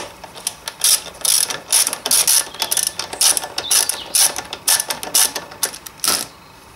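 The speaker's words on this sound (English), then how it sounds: "First of all, remove those two bolts mounting the caliper" Rear brake caliper mounting bolts being removed on a Suzuki RF 900 motorcycle: loud, close ratchet clicking in repeated quick bursts with short pauses between them, with no talking.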